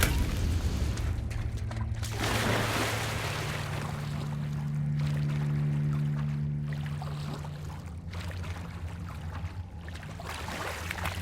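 A Confringo spell explosion in Hogwarts Legacy, a booming blast followed by a long rumbling, humming tail, with further muffled thumps later on.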